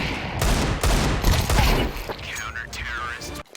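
Rapid bursts of gunfire from the video game Counter-Strike 2, loud and close, with several clustered shots and rattling weapon mechanisms through most of the stretch, easing off near the end.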